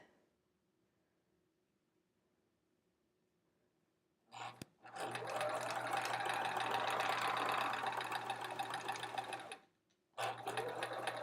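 A home sewing machine with a fresh sharp needle stitching a quilt block, running in one long steady burst of close, even motor whir after a quiet pause, then stopping and starting again briefly.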